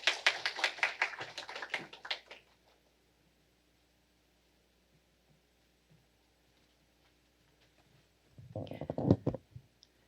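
Audience applause at a public hearing on university admissions, a burst of clapping that fades after about two seconds, then quiet, then a second short round of clapping near the end.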